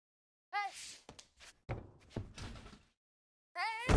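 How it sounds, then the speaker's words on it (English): A mixed martial arts fighter slams her opponent to the mat in the UFC 4 video game, giving a cluster of sharp thuds and body impacts spread over a few seconds, with crowd noise rising at the end. "slams her to the ground"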